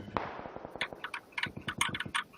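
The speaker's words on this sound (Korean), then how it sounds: "방금 저 건물 쪽에서 총소리 났어" A rapid series of sharp video game gunshot pops and cracks from a battle royale match, irregular bursts at moderate distance, fairly faint, with no voices.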